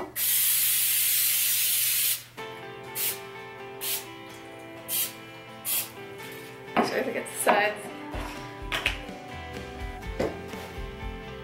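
A two-second hiss of cooking spray greasing a cake pan for a chocolate cake, followed by light taps and clinks of the pan, with a person talking afterward.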